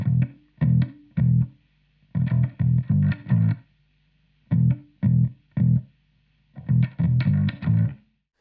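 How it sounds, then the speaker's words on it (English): Deep, slightly distorted bass-like notes from a Peavey AT-200 electric guitar set to emulate a bass guitar, played in short plucked phrases with brief pauses between groups. "I changed the pickup type to be emulating a bass guitar"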